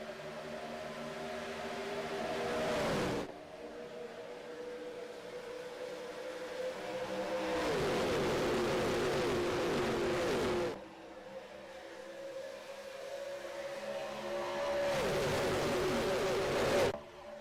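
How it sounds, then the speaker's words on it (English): In a sim racing game, a race car from the simulated 2005 NORA Retro Cup season at Daytona accelerates. The engine tone climbs repeatedly through the gears in three long pulls, each ending in a shift, steady and unaccompanied by talk. "Just hearing the engine spool up through the gears in turns 1 and 2"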